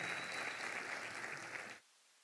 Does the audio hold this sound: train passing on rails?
no